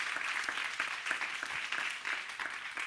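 Audience applause at an awards ceremony for vocational training entrepreneurs, a steady, moderately loud wash of many hands clapping that continues evenly throughout.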